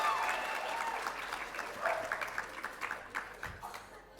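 An audience at a pet blogging awards ceremony applauds, a loud steady patter of clapping that grows more broken and uneven toward the end, with some voices underneath.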